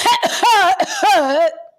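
A person gives a quick run of about four loud, voiced coughs up close, each with a rough tone that fades out at the end, with no other sound around them.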